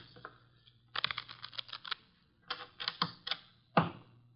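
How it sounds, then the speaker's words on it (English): Playing cards being shuffled at a table in a radio drama: quick rapid flurries of crisp riffling clicks in three bursts, the last ending in a sharp snap, with no talk. "The cards are shuffled."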